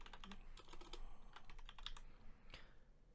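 Quick, light keystrokes on a computer keyboard as a command is entered in Command Prompt, a run of clicky taps with short pauses, close and fairly quiet, no talking.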